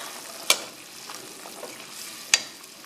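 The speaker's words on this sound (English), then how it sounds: "And now I am going to stir it." Spices for khichdi stirred in a hot pan: a steady soft sizzle with two sharp scraping clacks of the spoon against the pan, well apart, and no talk.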